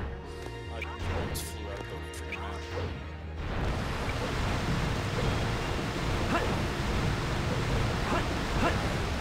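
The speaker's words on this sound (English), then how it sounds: "The water flowing." A waterfall in the video game Sonic Adventure 2 Battle pours in a dense, steady broadband rush that swells loudly after a few seconds of game music and effects, then continues as a constant roar.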